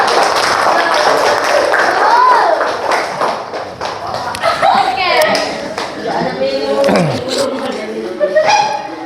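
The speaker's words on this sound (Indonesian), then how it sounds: "Kasih tepuk tangan teman kalian." Classmates clap for a student in a school classroom, a scattered burst of hand claps and taps mixed with children's chatter and chuckles throughout.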